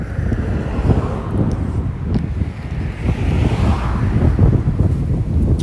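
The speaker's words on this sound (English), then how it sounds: "Sorry about the wind, but it's this windy in real life too" Heavy wind buffeting a microphone outdoors in Japan, a constant low rumbling roar with gusty swells that runs the whole time, loud and close.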